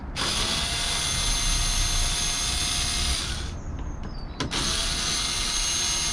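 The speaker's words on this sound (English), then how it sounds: "Check me out with my electric screwdriver." An electric screwdriver whirs steadily, undoing bolts on the front wing of a rusty Rover P6. A loud continuous motor whine runs close by, stops briefly with a few clicks, then starts again.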